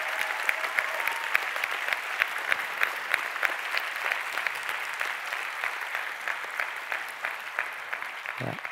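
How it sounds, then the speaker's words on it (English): Steady applause from a conference audience fills the whole stretch, dense and even, with a brief low thump near the end. "could I actually give Jackie and Sean a big round of applause just for their openness"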